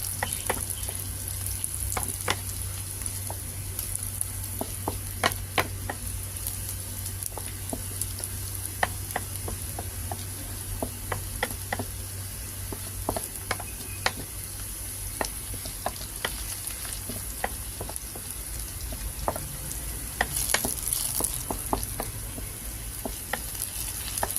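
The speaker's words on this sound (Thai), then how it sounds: "แล้วเราก็ใส่กระเทียมกับพริกนะคะ" Garlic and red chili frying in a pan, a steady close sizzle running throughout with scattered crackles and pops.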